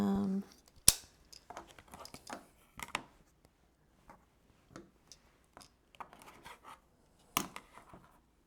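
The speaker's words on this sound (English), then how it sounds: "it looks like I have a little bit on this other side to trim." Scissors trimming the edges of a fabric quilt block, a series of separate close snips and soft cloth rustles spaced irregularly over several seconds, quiet and without talk.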